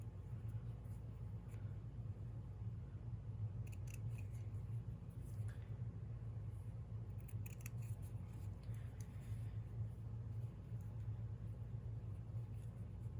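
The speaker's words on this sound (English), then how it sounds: "So I'm just gonna cut it right along this edge." Scissors trim a strip of lace along an edge, making a few quiet, crisp snips spread through the passage over a steady low rumble.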